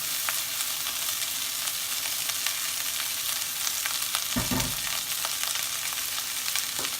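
Cooked basmati rice sizzles and fries with onions in a pan for a goose curry, a steady close crackle with a brief low thump of stirring midway.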